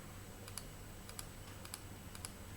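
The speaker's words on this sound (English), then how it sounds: "use delete button in your keyboard" Soft, quiet clicks of keys pressed on a computer keyboard, four separate taps spaced evenly across a faint background hiss.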